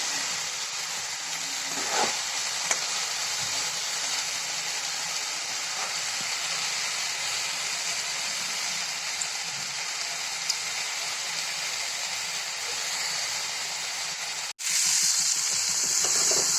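Cauliflower, peas and potato sauté in a pan with a steady, continuous sizzle and hiss, close and even throughout, with a brief break near the end before the frying noise returns; no talk.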